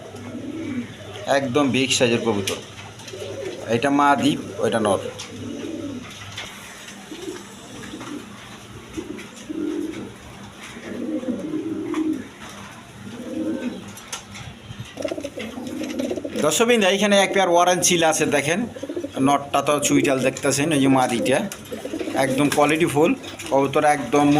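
Quality pigeons coo nearby at a bird sale, their throaty rolling calls overlapping with someone talking steadily throughout.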